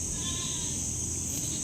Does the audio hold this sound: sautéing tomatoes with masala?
no